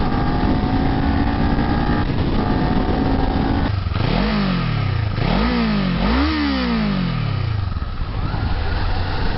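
Kawasaki Z400 motorcycle engine on a test ride, steady road drone that breaks into three quick rising revs in a row, close and loud, with wind noise throughout.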